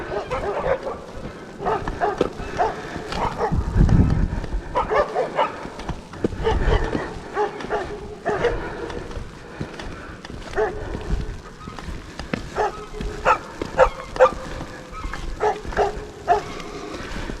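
Dogs bark repeatedly in short bursts at a distance, over steady background noise of icy snow hitting an umbrella, with a few louder yaps scattered throughout.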